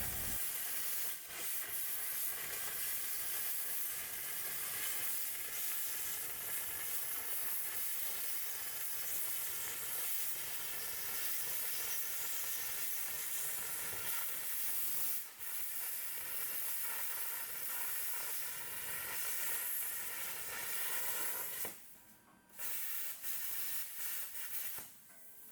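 Plasma torch cutting the old axle mounting tabs off a trailer frame, a loud steady roaring hiss that runs almost continuously, with a brief break and sputter near the end.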